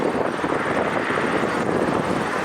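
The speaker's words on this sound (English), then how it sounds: "having a smaller chopper like this, they could pretty much land anywhere." A small helicopter flies nearby, its engine and rotor giving a steady, loud, broadband roar that holds evenly throughout with no voices.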